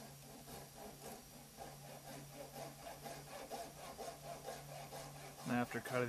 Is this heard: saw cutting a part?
yes